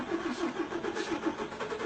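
A car engine runs steadily at a roadside search checkpoint in Aba, Nigeria, with a rhythmic mid-pitched pulsing drone that fills the short stretch without pause.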